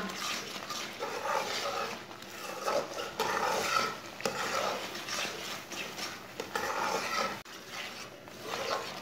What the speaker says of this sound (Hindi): दोबारा इसे चम्मच चलाते हुए पकाना।